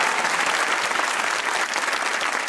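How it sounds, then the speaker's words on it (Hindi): A TV comedy talk show studio audience bursts into loud, dense applause as a guest is called up, a continuous roar of many clapping hands filling the room without pause. "तालियां हमारे सईद भाई की।"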